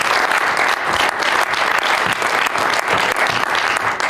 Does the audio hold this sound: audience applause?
yes